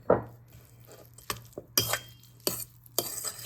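Egg salad made with eight eggs being mixed with mayonnaise in a bowl: intermittent scraping and clinking strokes of a utensil against the bowl, close and fairly quiet with short pauses between strokes.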